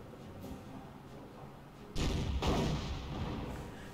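A Panther tank's main gun fires and misses in the World War II strategy game Company of Heroes, one sharp loud blast midway with a second heavy boom close after, over a low battlefield rumble.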